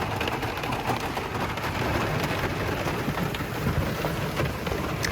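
Steady rain falls outdoors during a foul-weather hunt, a dense continuous patter with a constant hiss and a low rumble throughout, close and fairly loud, with no voices.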